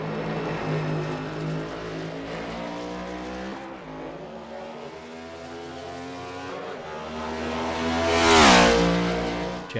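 A race car at Watkins Glen drones past under green flag, its engine rising and falling through gear changes, then surging loud as it crosses the line close by before fading.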